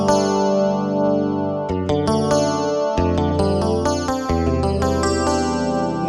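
A clean electric guitar voice on a Yamaha PSR-S670 keyboard played in phrases, each note trailing off in repeating delay echoes and a wash of reverb, loud and close with no talking.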